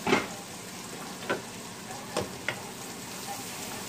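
Chopped green onion frying in chili oil with garlic in a pan, a steady soft sizzle with a few brief stirring clatters, fairly faint and close.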